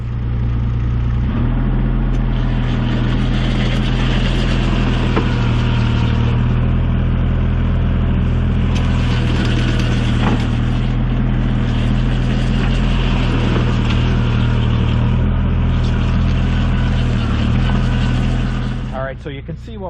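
An ASV RT30 compact track loader runs nearby at a steady, loud engine drone with a strong low hum, working a gravel driveway; someone talks over the continuous machine noise.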